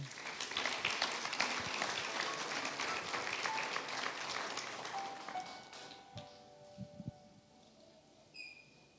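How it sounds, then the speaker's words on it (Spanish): A church congregation applauding, with broad clapping that fades gradually. Scattered claps and a few faint tones remain toward the end. "De un aplauso a Jesús."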